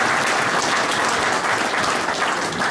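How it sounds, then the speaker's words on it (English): Steady, full applause fills a restaurant dining room as luncheon guests at Tozzis clap together for the meal, dense and even throughout with no talk. "How about a round of applause for the great meal?"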